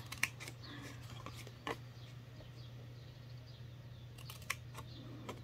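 Scissors snip small tabs into a paper card for an exploding box card, giving a few sharp, close clicks spread over a quiet room hum.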